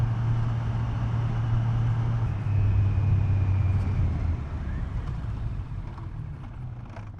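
A Kawasaki Z900 motorcycle engine drones steadily while riding, its low hum sitting under constant wind rush. The pitch shifts slightly partway through before the sound eases off toward the end.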